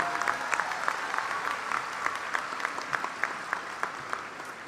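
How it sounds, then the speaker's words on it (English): An audience at the 2022 Conroe High School graduation claps steadily for the top two graduates, a dense, even patter of many hands with a few louder individual claps, with no talking. "Let's give our top 2 graduates another round of applause."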